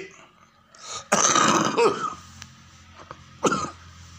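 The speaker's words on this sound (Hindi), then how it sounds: "खांसी आ रही है" A few harsh coughs and throat-clearing sounds, close to the listener: one heavy burst, then a smaller hack a couple of seconds later, with quiet between.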